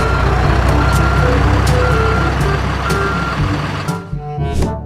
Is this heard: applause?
no